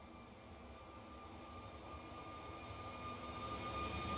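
A departing aircraft at Bristol Airport gives a steady broadband engine roar that swells slightly over a few seconds. A faint tonal whine sits above it, and the sound carries at a moderate distance with no talk.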